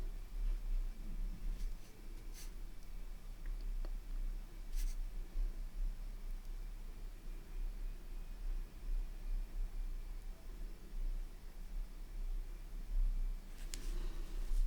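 A pen writes on a watercolor greeting card, soft faint scratching strokes over a low steady background, with a few sharp clicks spaced apart.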